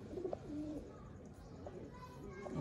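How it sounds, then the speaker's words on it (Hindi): Champion racing pigeons cooing softly in a few brief, low calls against faint background noise, with no clear talk. "ये कबूतर 5 साल से बाजियों में परफॉर्मेंस कर रहे हैं"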